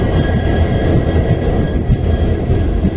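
Train at a railway station platform on the Mysuru–Chamarajanagar line: a steady, loud, continuous rumble with low mechanical drone and faint tonal hum throughout, no voices.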